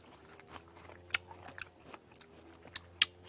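Crisp bites and steady chewing of crunchy Kim Ju guava, close and alone, with sharp crunches standing out among softer mastication sounds.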